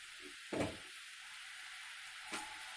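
Dry fruit and nut powder roasts in ghee in a pan, a faint steady sizzle with two soft scraping stirs, no talking.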